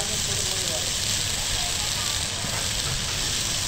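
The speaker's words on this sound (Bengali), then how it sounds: "এই ঝিঙের সঙ্গে ডালটাকে ভালো করে নাড়াচাড়া করে একটু ভেজে নিলাম" Ridge gourd and mung dal fry in a pan with a constant crackling sizzle while being stirred, and a voice talks over it.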